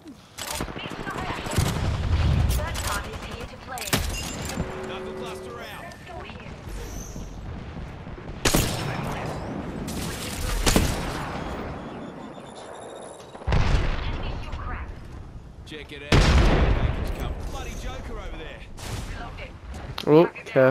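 Repeated bursts of loud gunfire in Apex Legends, with sharp volleys and heavy impacts separated by quieter gaps, while a player talks over the action.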